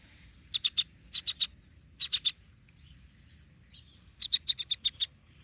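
Baby bird chirping while being fed, loud, close bursts of rapid high-pitched cheeps in quick clusters of three to six, separated by near silence.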